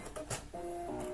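Sewing machine stitching the side of a drawstring bag shut, a short steady mechanical whir with a faint hum, preceded by a few brief handling noises; no talking.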